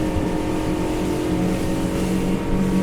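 A Highfield 560 Sport motorboat runs at speed on the Broadwater near 30 knots and 6,000 RPM, its engine a steady, loud, continuous drone with a sustained tonal whine and no break.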